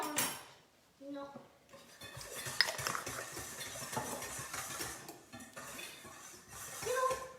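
Vegetable tabbouleh with fresh bread being stirred in a bowl, with scraping, clinking utensil sounds running steadily through the clip and voices talking in the background.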